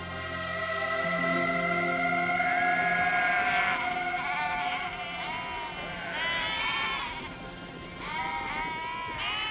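Sheep on a vast sheep station bleating repeatedly, several overlapping wavering calls close and fairly loud over a steady background.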